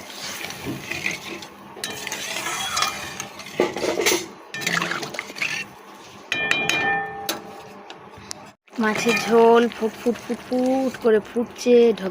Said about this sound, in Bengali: এটাকে মাছের ঝোলে একটু জল দেওয়ার পালা